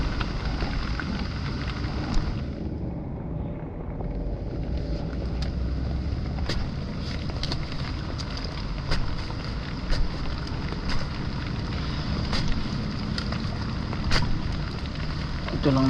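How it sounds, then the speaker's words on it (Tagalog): Steady rain pours outdoors during a heavy downpour that halted a harvest, a dense hiss with wind and gusts buffeting the microphone and occasional sharp drips or taps. "Hindi na nilubayan ng ulan."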